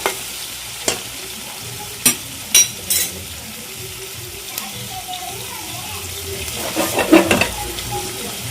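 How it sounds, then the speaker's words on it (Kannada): Onions fry in a pan for chicken keema sambar, a low sizzle running under sharp scraping stirs of the spoon against the pan, while a voice talks quietly in the background. "ಚೆನ್ನಾಗಿ ಫ್ರೈ ಮಾಡ್ತೀನಿ ಚೆನ್ನಾಗಿ ಫ್ರೈ ಮಾಡ್ಕೋಬೇಕು"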